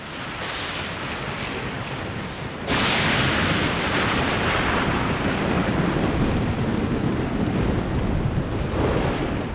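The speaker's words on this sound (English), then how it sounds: "As the downpour begins, the parched ground absorbs every drop." Heavy rain pouring onto a dry, parched plain with thunder rumbling, a steady hiss that suddenly swells louder a few seconds in and then continues as a dense, roaring downpour.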